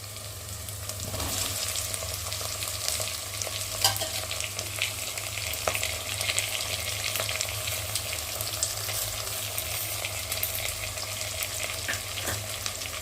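Taro roots fry in oil with a continuous crackling sizzle, stirred now and then with scraping clicks, heard up close and without talk.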